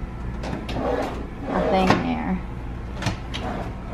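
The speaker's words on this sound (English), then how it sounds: "I love the soft closed drawers" A soft-close kitchen drawer in a vacation rental glides shut with a muted, cushioned thump, close by, while people talk in the background.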